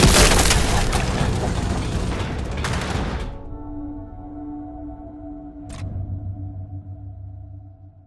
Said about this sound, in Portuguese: Ah, granada de fragmentação!